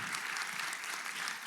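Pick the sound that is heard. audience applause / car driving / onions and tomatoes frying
audience applause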